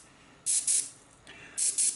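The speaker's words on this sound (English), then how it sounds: "The other thing about airbrushing this on is it actually dries really quick because the air atomizes the paint very quickly." An airbrush sprays paint onto a miniature in two pairs of short, sharp hissing bursts, close and clear against a quiet background.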